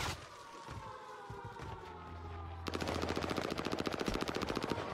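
Rapid automatic gunfire from a video game, a steady fast burst of shots that turns louder and denser partway through, with a siren-like tone underneath and no talking.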